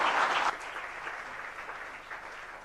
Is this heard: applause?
yes